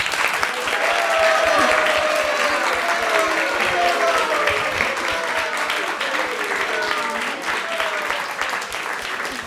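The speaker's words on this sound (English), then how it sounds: "So a huge round of applause to him." Sustained audience applause at a devotional talk event, a full, even round of clapping lasting around nine seconds, with faint voices and tonal sounds threading through it as it slowly tapers.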